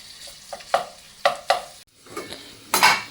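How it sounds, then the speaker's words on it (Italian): Sausage browns in a pan, a soft steady sizzle broken by several sharp scrapes and clacks of a utensil as the meat is stirred and broken apart, close and fairly quiet, with no voices. "mettiamo giù la salsiccia a rosolare, così la spezzettiamo il più possibile e facciamo rosolare"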